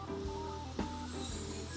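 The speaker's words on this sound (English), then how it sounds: "We're gonna go ahead and just hit these with a little bit more spray." Liquid spray misted onto ribs in a smoker, a faint short hissing burst against a steady low background hum.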